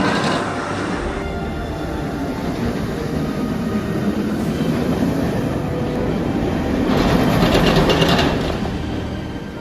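A B&M roller coaster ride on Kraken at SeaWorld Orlando gives a loud, continuous rumbling roar of wheels on steel track, swelling and surging with wind rush close to the rider.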